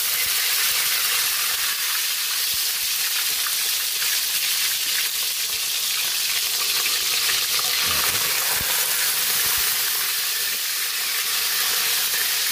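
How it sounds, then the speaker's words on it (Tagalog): Steady loud sizzling and crackling of dried milkfish frying in hot oil, a continuous bright hiss with occasional pops, close by. "Magpiprito na tayo na ating isdang bangus."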